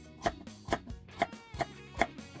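Knife slicing radish on a cutting board, five or six close, crisp taps in a loose steady rhythm, quiet and alone with no voices.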